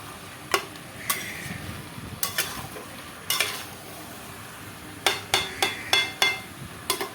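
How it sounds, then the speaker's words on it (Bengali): Goat meat and potatoes being sautéed in a pan, with a low sizzle under sharp, irregular clanks and scrapes of a spatula against the metal, some coming in quick clusters. "আলু আর পাঁটার মাংস আমি দশ মিনিট ধরে কষাতেই থাকবো"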